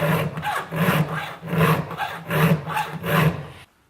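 A hand file sharpens a chainsaw chain in five rhythmic rasping strokes, each a close, gritty scrape with short pauses between, then stops abruptly.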